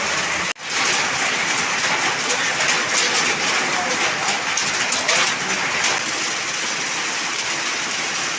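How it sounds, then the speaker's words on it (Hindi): Heavy rain mixed with hail pours down loudly and continuously, a dense hissing roar with no pauses. "बाहर बहुत ज़्यादा बारिश शुरू हो गई है, और ओलावृष्टि हो रही है"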